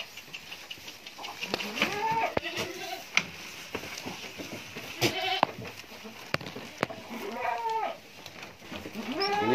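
Several goats bleat in short wavering calls at irregular intervals, close by, over a noisy pen with scattered clatter and faint background voices.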